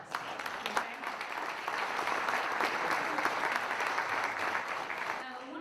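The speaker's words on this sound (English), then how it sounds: "please give them a round of applause" Audience applause at a live television industry panel in Los Angeles: steady, moderately loud clapping from a seated crowd that swells after a few opening claps and sustains before cutting off, with faint voices underneath.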